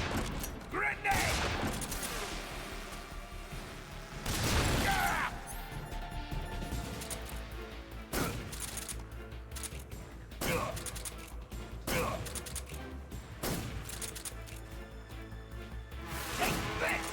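Metal Gear Solid 3 combat bursts with repeated gunfire volleys and a heavy grenade blast, punctuated by crashing impacts, while a voice talks over the action.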